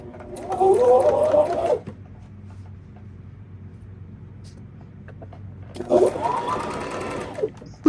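A sewing machine stitching the side seam of a skirt made from old denim jeans, two bursts of fast whirring stitching close by separated by a quiet pause with soft handling, no voices.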